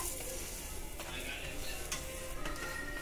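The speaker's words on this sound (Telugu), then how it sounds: "ఇట్లాగా మంచిగా దోరగా వేయించుకోవాలి" Bachalu fritters fry in hot oil with a constant, dense crackling sizzle, broken by a few light scraping stirs and no voices.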